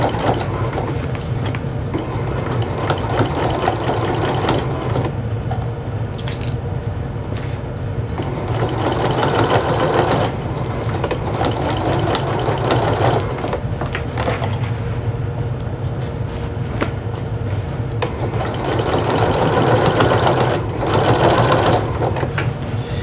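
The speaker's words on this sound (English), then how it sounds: "I want to set my machine so the needle stops in the needle down position." A sewing machine stitches thick fabric for a beach tote bag, its steady close-up mechanical whir running continuously, with faint rattling and creaking throughout.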